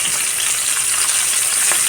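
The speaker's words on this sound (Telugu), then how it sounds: "నూనె బాగా కాగిన తర్వాత ఈ కాకరకాయని సన్నటి ఫ్లేమ్లో ఉడికించుకోవాలి" Stuffed bitter gourd fries in hot oil on a low flame, giving a loud, steady, close-up sizzle with an even bubbling hiss and no voices.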